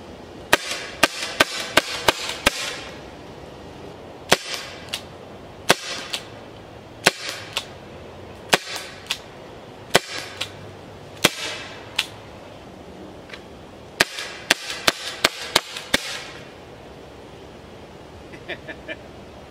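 A Byrna HD launcher fires a rapid run of sharp, loud cracking shots in irregular bursts and clusters, close by, with no talk over them.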